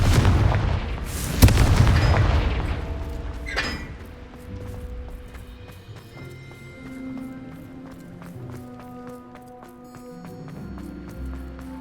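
A Confringo blasting spell goes off in Hogwarts Legacy as a loud explosive boom, then a second smaller blast, followed by a fading rumble, footsteps and scattered game effects.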